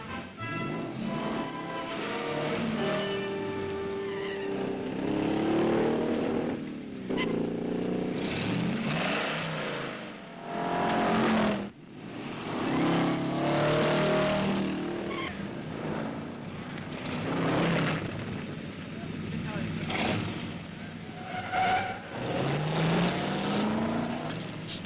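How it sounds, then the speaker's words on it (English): Hot rods, sports cars and rebuilt jalopies race on a quarter-mile drag strip, their engines revving and roaring past in rising and falling sweeps, with a brief quiet gap between runs. "sports cars, as well as reformed jalopies, compete against time over the quarter-mile drag course."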